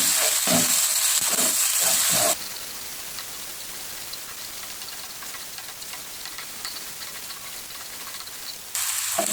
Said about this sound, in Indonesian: lalu kita juga masukkan ini daun salam, daun jeruk, dan 1 batang serai. Kita tumis hingga mengeluarkan aroma yang wangi